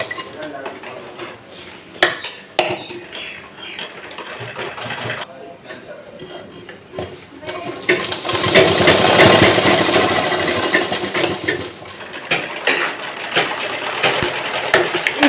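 Sewing machine stitching elastic into the waistband of a heavy 42-hip-size pant, a steady mechanical whir that swells in the middle stretch, with a person talking over it throughout.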